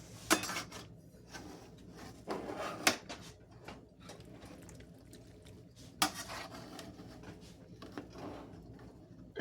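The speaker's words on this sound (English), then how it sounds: "We're going to give this a little stir." A heavy-duty spoon stirs chili base with beans in a large canning pot, with soft scrapes and a few louder metallic knocks against the pot, no talking.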